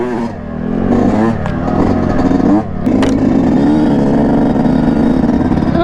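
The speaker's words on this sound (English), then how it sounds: "Grom coming in hot, bro." A Honda Grom motorcycle rides up a slippery dirt trail, its small engine revving loudly and close with a steady, buzzing drone and a brief dip as the throttle changes.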